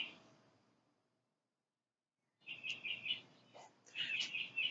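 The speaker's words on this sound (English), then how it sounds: "birds." Bright, high bird chirps come in quick clusters after a quiet stretch, fairly close and clear over a soft background hiss.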